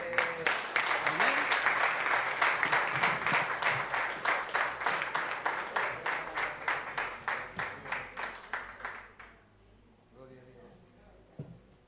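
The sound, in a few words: congregation applauding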